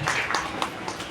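An audience applauds at a community award and honours ceremony, a dense, steady patter of many hands clapping, loud and close for a brief burst.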